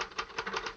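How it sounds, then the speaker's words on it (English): Rapid mechanical clacks of typewriter keys strike in a quick uneven rhythm, close and crisp, with no speech over them, in a 1951 comedy-drama film scene. "I'm typing on the back of it."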